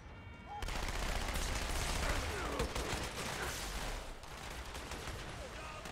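Teammates fire guns in a shooter video game, producing a dense burst of rapid, crackling shots that starts abruptly and thins after a few seconds into scattered pops against background noise.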